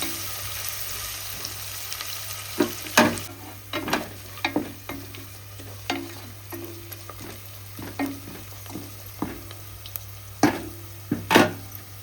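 Onions frying in a pan for pulao give a steady low sizzle, close by, broken by repeated scraping and clinking stirs of a spoon against the pan.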